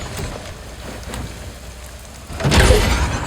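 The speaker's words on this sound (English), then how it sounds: "It is always raining here," Steady rain falls in the video game Star Wars Outlaws, a constant hiss that swells louder and heavier near the end.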